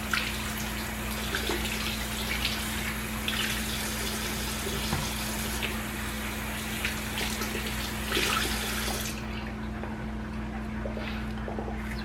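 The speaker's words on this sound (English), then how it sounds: "And I do rinse these out too." Stuffed-pepper peppers rinsed under a running kitchen tap, a steady broadband splash of water that continues throughout, with small clatters and handling sounds mixed in and no talking.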